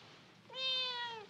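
A cat gives a single clear, drawn-out meow close by against a quiet background.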